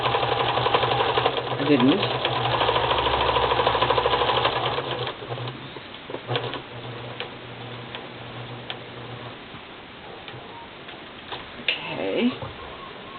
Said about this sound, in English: it's a little hard sewing through the towel